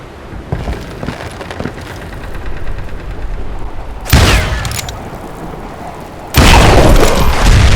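A gunshot fired at a footbridge rope in the western video game Call of Juarez Gunslinger: two loud, sharp blasts with a rumbling tail break through a steady rain-like background hiss, the second lasting to the end.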